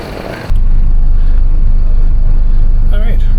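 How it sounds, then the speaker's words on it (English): Tour bus idling out front of a Tren Maya station in Mexico, a loud steady low engine rumble that cuts in abruptly after a brief opening and holds constant to the end. "the bus was just waiting right out here out front of the station"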